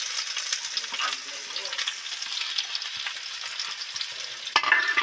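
Chopped onion fries in mustard oil with a bay leaf in a saucepan, a steady close sizzle with faint scrapes of stirring throughout and a louder burst of crackle near the end, no voices.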